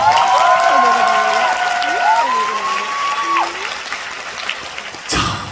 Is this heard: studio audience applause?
yes